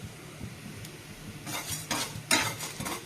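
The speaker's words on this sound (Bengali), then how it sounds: "2 চামচ মতন ছোট চামচে 5 ফোড়ন আর 2টো শুকনো লঙ্কা দিয়ে আমি হালকা একটু ভেজে নেব।" Panch phoron and two dried red chillies fry lightly in a small amount of oil in a pan, faint sizzling overlaid with a few scraping stirs and metallic spoon clinks that grow louder toward the end.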